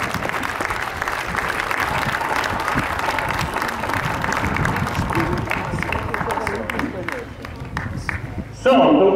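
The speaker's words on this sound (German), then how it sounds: "Einen kräftigen Applaus für diesen Spieler." Crowd applause for a youth ice hockey player at an under-10 tournament awards ceremony in an arena, sustained clapping with some cheering, briefly overtaken by a louder sound at the very end.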